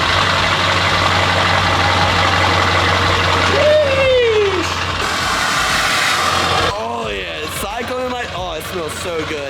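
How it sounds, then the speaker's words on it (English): A pickup truck engine rumbles at a steady idle inside a garage, a low continuous drone that shifts character partway through, with voices briefly heard near the end. "let's get this truck started and let's head over to Braden's."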